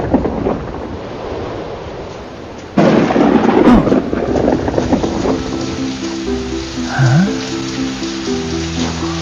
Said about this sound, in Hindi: तभी अचानक बारिश आ गई